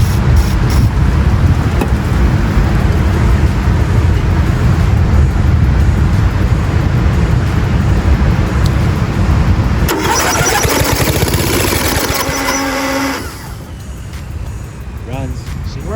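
1997 Murray 30575X31A lawnmower engine, unrun for 15 years with oil in the cylinder, cranking and catching, then running loudly and steadily before the note shifts and settles, with a voice briefly talking near the end.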